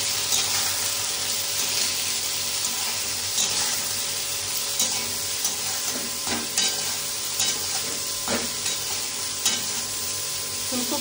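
Cauliflower, capsicum and green chillies fry in a pan with a steady, close sizzle, broken by intermittent scrapes and clinks of stirring, with no voices.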